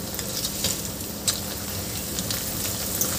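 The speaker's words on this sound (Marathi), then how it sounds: "आता यामध्ये आपल्याला मक्याचे पोहे तळून घ्यायचे आहे" Makyache pohe (corn flakes) frying in hot oil for a murmura chivda, giving a close, steady, crackling sizzle that runs unbroken and alone.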